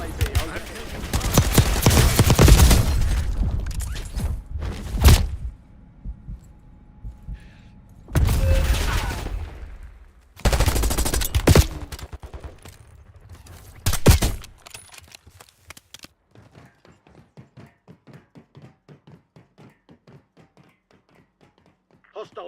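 Heavy gunfire in the Black Ops 6 video game: loud bursts of automatic fire in several separate volleys, then a fading stretch of rapid, lighter rattling shots toward the end.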